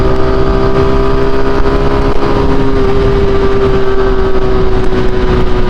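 A Honda Pop 110 motorcycle with an odd vibration-related noise, its engine droning loud and close at a steady pitch with a persistent whine, no talking.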